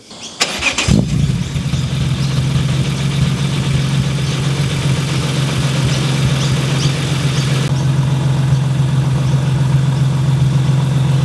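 A BMW E36 M3 with a swapped S54 engine cranks and catches, then settles into a steady, loud idle with a low rumbling hum that continues throughout.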